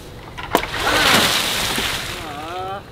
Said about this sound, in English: Water balloon fight!